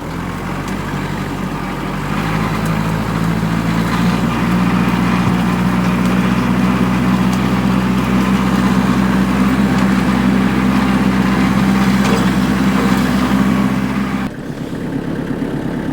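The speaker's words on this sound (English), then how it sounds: "So for those of you who have never logged with a tractor, it is an exercise of extreme patience." Small tractor engine runs steadily while timber is logged in a woodland stand, a constant low mechanical drone with a slight change in pitch partway through and a brief dip near the end, heard close with no talk.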